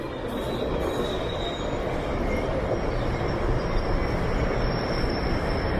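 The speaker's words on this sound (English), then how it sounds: "the trains are running at very high frequencies now" Trains rolling past one after another at rush hour beside a linear park under an elevated expressway, a steady loud rumble of railcars with wheel squeal and a thin high whine throughout, no talk.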